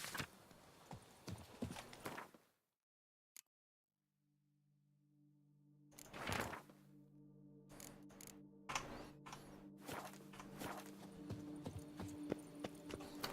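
Hooves of the horse Roach clip-clop in The Witcher 3: Wild Hunt video game, amid game ambience and music. A brief silent gap comes early, and the hooves resume moderately loud afterward.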